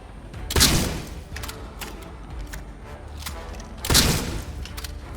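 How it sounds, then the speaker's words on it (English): Two loud, booming shotgun blasts from the Atomfall video game ring out a few seconds apart. Softer in-game clatter and mechanical noise fill the space between them. "How many headshots does it take with a shotgun to bring you down?"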